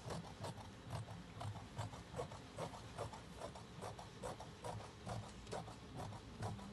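Fabric for a flared dress skirt piece is cut with steady, rhythmic snips, close and fairly quiet, repeating evenly throughout with no talking.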